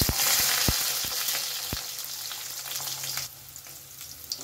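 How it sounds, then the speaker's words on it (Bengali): Cut eggplant sizzles in hot oil left from frying lentil dumplings (bori), a steady loud fry with a few sharp pops and crackles that eases slightly toward the end. "বড়ি ভাজা তেলের মধ্যেই আমি দিয়ে দিলাম কেটে রাখা বেগুন।"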